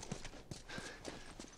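Horse hooves clip-clopping in The Last of Us, a quiet, evenly spaced run of hoof strikes at moderate distance under a low background wash.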